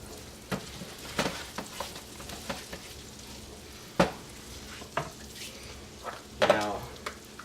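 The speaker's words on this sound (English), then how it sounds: "Gonna give that a quick stir." Salted potatoes fry in a pan with a constant soft sizzle, punctuated by a series of sharp scraping stirs and clanks at irregular intervals, close by, with a voice faintly present.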